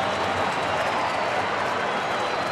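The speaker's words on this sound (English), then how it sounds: "Crowd trying to help him out." Crowd noise at a Colorado Rockies at Milwaukee Brewers baseball game in 2009, a steady loud wash of stadium cheering and murmur with no break, spread over the whole stretch.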